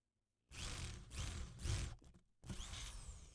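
A drill grinds through aluminum in three long pushes and then a fourth after a brief stop, with a rough, scraping whine.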